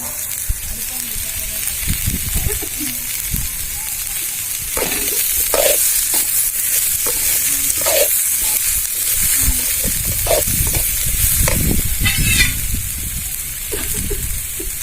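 Ingredients for Tamil kara chutney sizzle and fry in a hot pan while a utensil scrapes and stirs them in repeated strokes, close and fairly loud.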